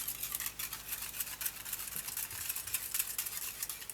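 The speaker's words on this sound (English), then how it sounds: "You stir it with the whisk," A whisk stirring a sugary falooda dessert mixture in a pot over high heat, a quick, close, continuous scratchy swishing and rattling with a steady rhythm.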